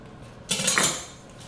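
A single knife stroke chopping half a pound of salami into small cubes for spaghetti sauce, one sharp close clatter of blade against the board that rings out briefly and fades, with no voices.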